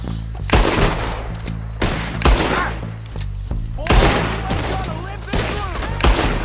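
Red Dead Redemption 2 shootout: sharp gunshots crack in bursts roughly every second, some close and booming, others overlapping into short volleys, with shouted voices in between.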